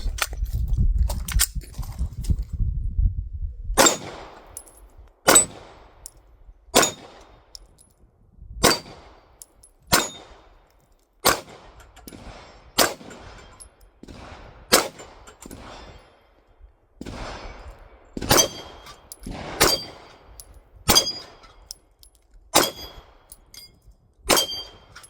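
A Beretta APX pistol fires a magazine at a shooting range, about fifteen sharp, loud shots spaced roughly a second or more apart, each ringing briefly, after a few seconds of low rumbling handling noise.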